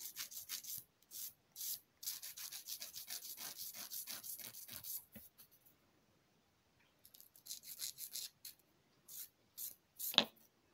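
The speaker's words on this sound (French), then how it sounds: "je vais venir prendre ma lime. Donc, c'est la lime du kit" Short rasping strokes of a kit nail file shaping a broken gel nail, near and fairly soft, coming in rapid bursts with a quiet pause midway before a few more strokes.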